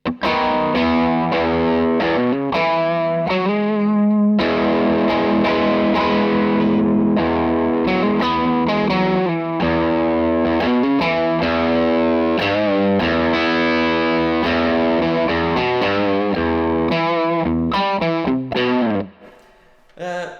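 Heavily overdriven electric guitar through a Victory V40 The Duchess amp plays chords and riffs continuously, thick and saturated, ending with a brief pause and one last strum.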